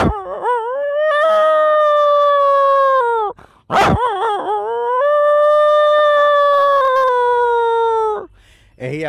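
A man imitates a dog howling at night, producing two long, loud, wavering howls close to the listener, separated by a sharp breathy break, with a short yelp at the end.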